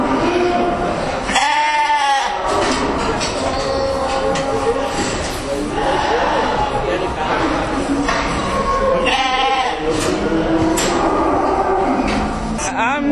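Sheep bleat at a livestock market selling prime lambs, two loud drawn-out calls standing out over steady crowd noise and talking.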